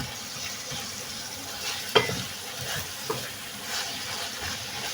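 Minced meat for karnıyarık sizzles steadily in a pan, with a few sharp scrapes and clicks of a spoon stirring it through the continuous frying hiss, close and moderately quiet.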